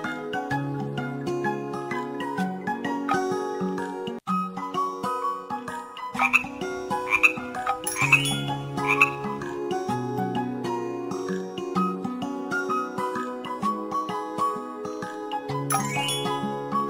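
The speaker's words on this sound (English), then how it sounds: "Frog." A cartoon frog croaks in a children's animal-names lesson, set against a bright, steady musical backing with chiming tones and no talking.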